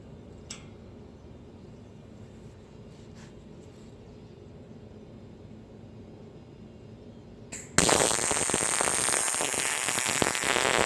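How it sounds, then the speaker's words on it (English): Welding nuts onto the corners of a steel welding table: quiet room noise with a few faint clicks, then an abrupt loud crackling, hissing arc that continues steadily to the end. "I'll just weld these on to all 4 corners"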